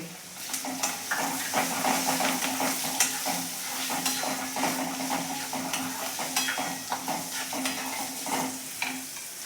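One large chopped onion hits hot oil in a pan for Rajasthani dal baati, giving a continuous close sizzle with repeated scraping stirs of a spoon against the pan.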